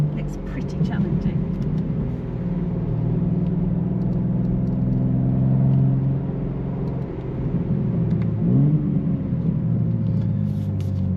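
BMW G83 M4 Convertible LCI engine driven with manual gear changes: steady road and engine drone with pitch sweeps as gears shift up and down, heard from inside the car.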